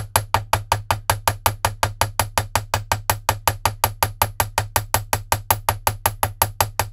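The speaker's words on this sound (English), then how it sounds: "Now, hammering it, it's called work hardening" A hammer strikes a wire bracelet loop to work-harden it, in a fast, even run of about thirty sharp metallic taps. The blows are close and loud, with a low steady hum beneath.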